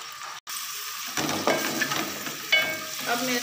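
Spinach for aloo palak frying in a pan, with a steady close sizzle and intermittent stirring scrapes after a brief drop-out near the start, fairly loud and without talking.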